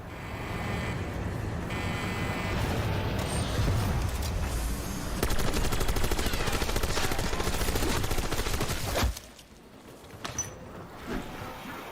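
Sustained gunfire in Black Ops 6 Zombies: dense, continuous shooting and game effects for about nine seconds, then a drop to quieter scattered shots and game sounds.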